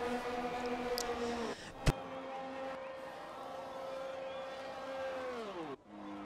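A Formula 1 car in F1 2020 at the Austria race enters the pits, its engine holding a steady, droning tone that sinks lower near the end, with one sharp click early on.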